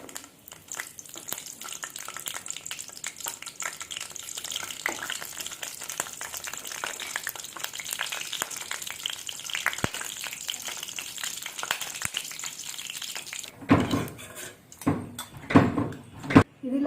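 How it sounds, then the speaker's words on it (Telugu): Dry fruits frying in hot ghee make a steady close sizzle and crackle for most of the stretch, ending with a few louder clattering stirs and clinks near the finish. "నెయ్యి హీట్ అయిన తర్వాత డ్రై ఫ్రూట్స్ వేసుకోవాలి."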